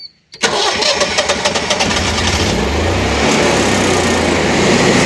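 A Generac standby generator is started manually: a short click and crank, then the engine catches and settles into a loud, steady running drone with a faint rhythmic pulse.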